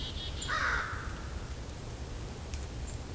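American crows caw at a distance, with one short harsh call rising above steady outdoor background noise during a winter bird count, followed by a faint later call.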